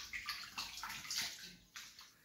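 Clay pots soaked overnight in water are rinsed clean by hand, giving close, uneven splashes and sloshing bursts of running water with short pauses between them.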